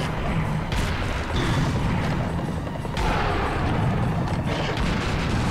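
Heavy shotgun blasts go off in Serious Sam HD among booming combat noise, loud and dense, with a few sharp reports standing out from a constant roar.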